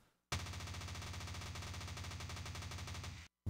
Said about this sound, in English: the guns do shoot a lot slower when they're overheated